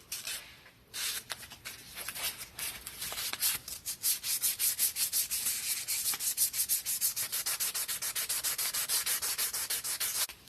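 Fine 600-grit sandpaper, doubled over, rubbed rapidly back and forth to clean ignition points on a Honda 600 sedan hazard switch, a steady run of short, close, scratchy strokes with no talking.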